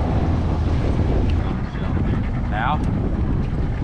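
Steady wind roars across the microphone aboard a fishing boat on the water near Quincy, Washington, a constant broadband rush with a brief whistle-like sweep, while a voice speaks briefly.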